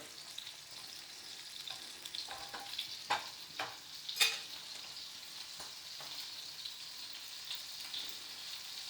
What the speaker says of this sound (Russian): Вот оно начинает пузыриться, помидоры жарятся.